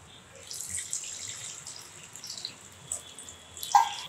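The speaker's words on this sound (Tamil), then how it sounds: "புளி தண்ணி சேர்த்துடலாம்." Tamarind water poured into a pan of small-onion kara kulambu curry, a faint liquid trickle and splash that swells near the end, with no talking.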